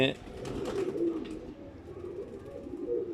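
An Imam Deen breed pigeon coos in low, throaty murmurs while someone talks over it nearby.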